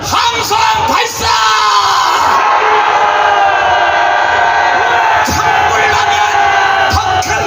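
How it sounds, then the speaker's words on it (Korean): A large crowd at an outdoor rally roars and yells on cue, a loud sustained wall of shouting and cheering with brief dips in the middle and near the end. "함성 발사!"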